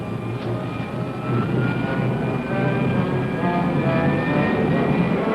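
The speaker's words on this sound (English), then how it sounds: "Fire pilot jet." A rocket ship's pilot jet fires with a steady, loud roaring rush that holds constant throughout, with a faint tonal whine over the broad engine noise.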